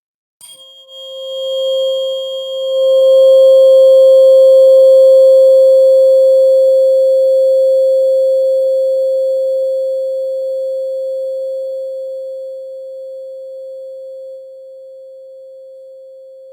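A steady 528 Hz pure sine tone plays alone, loud and unbroken, fading gradually toward the end, with no talk over it.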